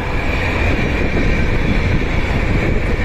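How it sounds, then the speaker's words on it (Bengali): A mail train that resembles a Vande Bharat rushes past at speed along a rural line near Khagragachhi, giving a steady, loud rumble of wheels and wind throughout with no talk. "মেল থ্রু ট্রেন আসছে একটা"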